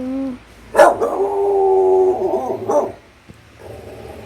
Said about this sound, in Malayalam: നന്നായിട്ട് കുരയ്ക്കുന്നുണ്ട്